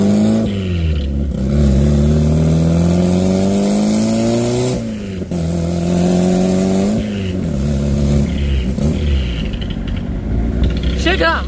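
A lowered Honda Civic revving hard and pulling away on the street, its engine rising and falling in repeated climbing sweeps, loud and close throughout with people talking over it.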